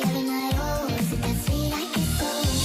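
A Fortnite emote plays its sped-up, chipmunk-like pop song, a high pitched vocal over a punchy thumping beat, loud and dense throughout.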